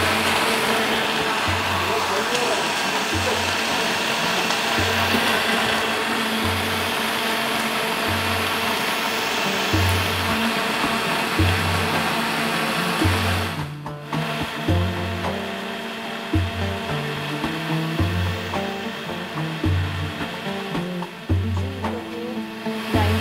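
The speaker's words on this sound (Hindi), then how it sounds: "अब हम इसको ग्राइंड कर रहे हैं" A mixer grinder blends an iftar drink, its motor giving a loud, steady whir with a rhythmic low throbbing that runs throughout. The pulsing briefly shifts partway through, and there is no talking.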